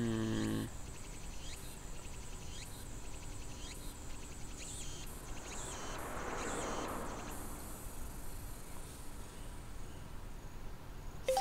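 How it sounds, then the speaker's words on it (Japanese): A dense, continuous chorus of cicadas fills a summer countryside scene in the video game Boku no Natsuyasumi 3, a steady buzzing drone that stays level and unbroken throughout, with no voices over it. "セミシグレ。"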